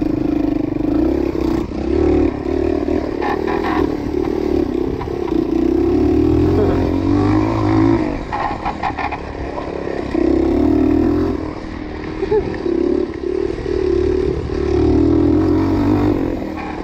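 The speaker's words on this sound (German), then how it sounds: "Hört ihr das vorne, das Kratzen?" A moped ridden outdoors with a scraping noise coming from its front, heard as a continuous engine drone with rattling and scraping, rising and falling with the throttle, close and loud.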